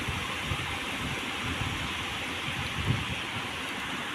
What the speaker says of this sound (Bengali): খুব জোরেই বৃষ্টিটা হচ্ছে।